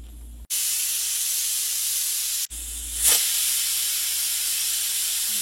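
A stovetop pressure cooker holding vegetables for saagu, just switched off after three whistles, vents steam in a loud, harsh, continuous hiss, cut by two brief pauses, then swelling into a stronger burst.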